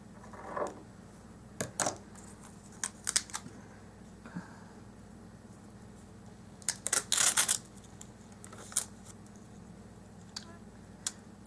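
Scissors cut a strip of washi tape for a paper planner, giving quiet, scattered snips and small clicks with pauses between them in a calm indoor setting.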